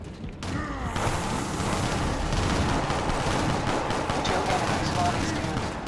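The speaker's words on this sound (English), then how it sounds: "I saw the shot, the SMG" SMG gunfire in the Shadowrun video game: dense, continuous rapid shots with booming impacts, loud and close, filling the whole stretch, with a voice talking underneath.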